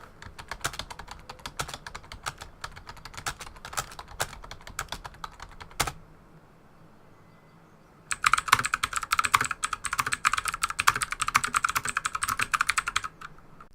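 Rapid clacking of mechanical keyboards being typed on, a steady run of keystrokes, a brief pause, then louder, brighter typing resumes on an AUKEY KM-G9.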